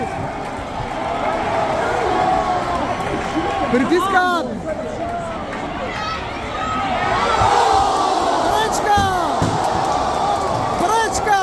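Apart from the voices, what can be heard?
English football fans cheering in stadium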